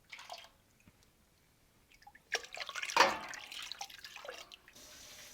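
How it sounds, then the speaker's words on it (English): Whey drips and splashes onto the floor while gouda cheese is being stirred and made, scattered soft drips that thicken into a brief run of wet spattering, close and fairly quiet. "You're dripping all over the floor."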